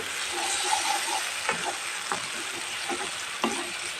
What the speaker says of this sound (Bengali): দেখো বন্ধুরা আমার চুটকিটা ফ্রাই হয়ে আসছে